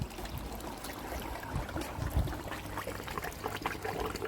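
A koi pond air pump, turned down to low power for winter, pushes air through the water, making a soft, steady bubbling and trickling close by, quiet and continuous.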